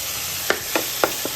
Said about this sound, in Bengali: আমি আবার একবার মাংসটাকে উল্টে দেবো দেখো ভাজা ভাজা মতো একটা হয়ে যাচ্ছে মাংসটা